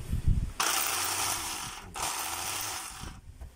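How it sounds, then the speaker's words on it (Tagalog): An old Black & Decker finishing sander runs noisily with a faulty scraping sound, starting after a short knock and holding a steady, rough mechanical whir that drops briefly before starting up again, close and loud. "So, old model po ito mga kabay na finishing sander ng Black & Decker."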